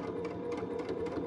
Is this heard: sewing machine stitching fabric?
yes